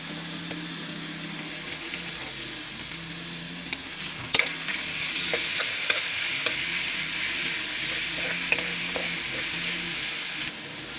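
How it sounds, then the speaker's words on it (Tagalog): Alamang (shrimp paste) sautés in a pan with santol and meat, sizzling steadily while a utensil scrapes and clinks in scattered taps against the pan. "Lagay ko na itong alamang."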